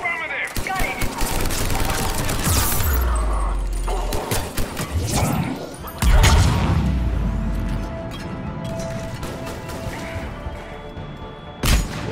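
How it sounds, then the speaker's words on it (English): Grenade blasts in Mass Effect on Insanity difficulty, several heavy booms and crashes mixed with rapid gunfire over about twelve seconds, loud and close, with someone talking over the combat. "The damn grenades always home in on me, don't they?"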